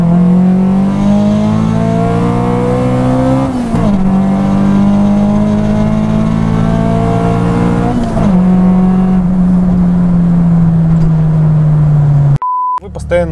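Honda Civic race car engine revving hard and loud at close range, pitch climbing in long pulls broken by two sharp gear shifts, then a brief electronic beep near the end.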